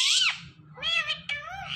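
A ringneck parrot mimics a cat's meow with a few nasal, cat-like calls over about two seconds, close and clear, with a low background hum underneath.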